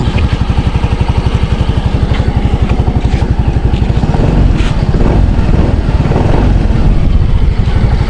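A Yamaha Mio Gear scooter engine running close and loud after a fuel pump repair, a rapid steady idle pulse giving way to a rougher, fuller running sound with no talking.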